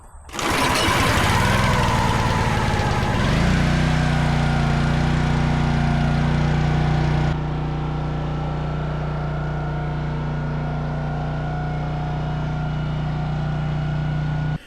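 A log splitter's small engine cranks and catches, roaring up loudly before settling into a steady, close, droning idle that continues at a slightly lower level until the end.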